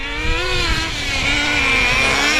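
A Traxxas JATO 3.3 nitro RC car accelerating hard on a drag run: a loud, close, buzzing high-pitched engine whine that climbs and holds steady, with no talking.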